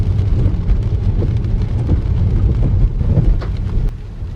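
Steady rain falls outdoors, a constant rushing patter with some wind buffeting the microphone, loud and unbroken before easing slightly near the end.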